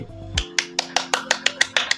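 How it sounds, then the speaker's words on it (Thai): Hand clapping during a livestream of a Samsung Galaxy J6 2018 booting a custom Android 12 ROM: about ten sharp, evenly spaced claps in quick succession, loud and close, with no talking. "ตบมือโชว์เลยทีเดียวกลางคลิปกลาง คอนเทนต์"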